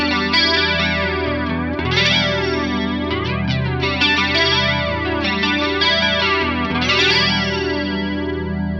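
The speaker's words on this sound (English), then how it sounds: "Scene 3 is the 2290 chorus." Electric guitar, a Strat, played through a 2290 chorus recreation on an Axe-Fx III, with chords swirling in a lush, wide shimmer at steady loudness for the whole stretch, no voices.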